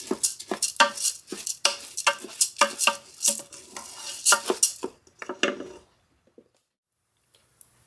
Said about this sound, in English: coat that rice with that little oil that's in there. And let this brown up. We'll keep it moving, get it nice and toasted.